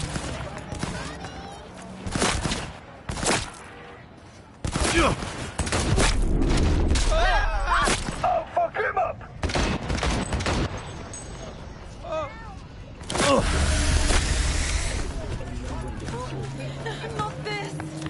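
Bursts of gunfire and explosive booms in the video game Cyberpunk 2077, loud and repeated in clustered volleys with short pauses, with speech mixed in between the shots.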